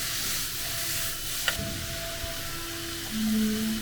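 Vegetables for yakisoba sizzle in a hot pan while being stir-fried, a steady close hiss with a sharp clank partway through and a tonal whine rising near the end.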